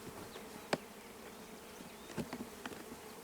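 Honeybees buzz around an open hive as they are moved into a new one: a faint, continuous drone with a few brief, sharper whines as individual bees fly close past.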